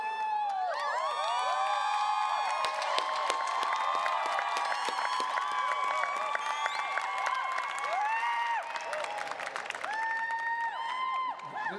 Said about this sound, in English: This is called organic applause, not sponsored search.